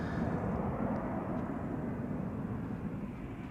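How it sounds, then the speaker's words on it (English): Airbus A220 Bombardier C-Series jet at Amsterdam Schiphol Airport, a continuous dense engine roar with a low rumbling base, steady and fairly loud throughout. "A220 Bombardier C-Series."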